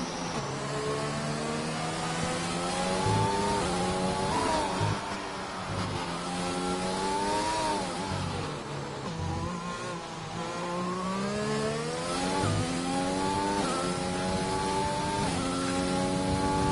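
Race cars accelerating past the line in a racing game at the Spain round, engines revving and shifting through gears continuously, several cars whining loudly and close with rising and falling pitch.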